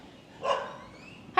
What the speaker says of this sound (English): Hi, doggy!